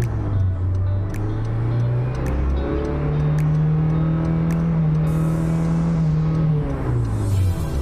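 A 2012 Honda CR-V engine running, a steady mid-loudness hum with a low drone that rises slightly partway through and settles again, close by with no talk.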